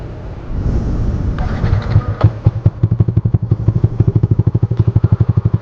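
A Yamaha NMAX scooter with an aftermarket R9 exhaust rumbles loudly up close, shifting into a rapid, throbbing idle pulse.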